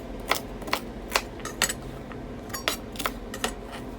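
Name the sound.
knife chopping celery into chunks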